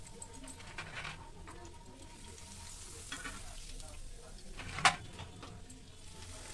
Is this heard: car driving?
no